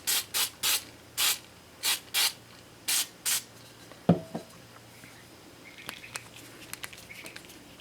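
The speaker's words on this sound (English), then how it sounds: "I'm going to put a little bit of spray adhesive on this" Spray adhesive from an aerosol can applied to a power cord being replaced on a power tool, seven short hissing bursts in quick succession, then a clunk and faint handling noises.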